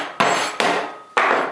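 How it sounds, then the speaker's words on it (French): Three sharp hammer blows strike a hard, stuck-together lump of sodium hydroxide pellets, each a loud crack followed by a short ringing decay, spaced unevenly and heard alone. "On va l'ouvrir avec le marteau."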